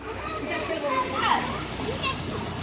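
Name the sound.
children splashing and playing in water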